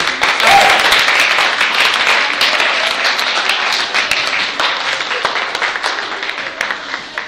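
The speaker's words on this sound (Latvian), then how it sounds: "varam tiešām aplausīt" An audience at a youth evening in a cathedral applauds a guest speaker, with steady, loud clapping from a crowd that holds throughout and fades slightly toward the end.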